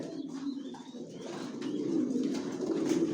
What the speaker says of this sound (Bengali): কোয়ালিটি সম্পন্ন কবুতর পালি, কোয়ালিটি সম্পন্ন বাচ্চা রেডি করি।